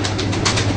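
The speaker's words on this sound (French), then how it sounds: "ce sont des pigeons décoratifs" Decorative pigeons from Cappadocia cooing close by, a soft continuous low murmur of overlapping coos with no talk.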